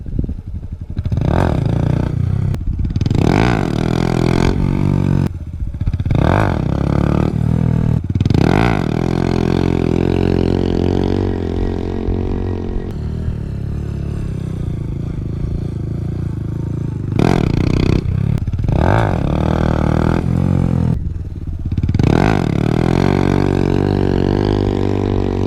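A Honda Grom motorcycle engine revs repeatedly during wheelie practice, loud rising and falling throttle blips close by, held steady at times and dropping back between pulls.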